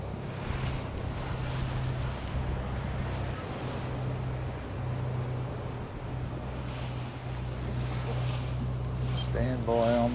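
Boat engine drones low and steady at sea amid wind buffeting the microphone and the wash of water, with the engine note shifting slightly as the throttle is eased back.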